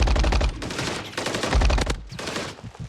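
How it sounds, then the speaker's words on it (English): Single-tap gunfire in Call of Duty MW3 ranked play: loud, close bursts of rapid shots in several clusters over a few seconds, each cluster a quick string of sharp cracks with short gaps between them. "I want you to shoot me 3 times in the head, just single tap fire"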